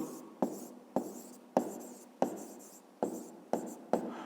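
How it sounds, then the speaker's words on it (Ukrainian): Handwritten numbers for a fifth-grade math exercise: eight crisp pen-on-paper scratches in a fairly even rhythm, each a quick sharp stroke fading out, close and quiet with no speech. "Записуємо тоді."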